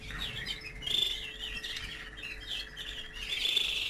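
Breeding birds kept in captivity chirp and tweet continuously, thin high calls layered over a steady faint hiss, with a few brighter notes standing out at moderate distance.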